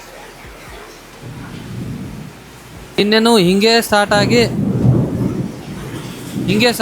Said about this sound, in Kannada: ಎಷ್ಟು ಗುಡುಗು ಸಿಡ್ಲು, ಗಾಳಿ ಎಷ್ಟು ಜೋರಾಗಿ ಬರ್ತಾಯಿದೆ ನೋಡಿ.